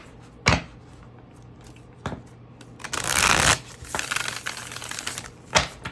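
Playing cards are riffle shuffled up close: several quick snappy flutters, then a longer buzzing cascade as the deck is bridged, and a final crisp snap.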